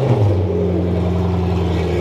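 A Ford GT's 5.4-liter supercharged V8 with a catless valvetronic exhaust holds a deep, steady idle rumble up close, with a brief rise at the start, no voices.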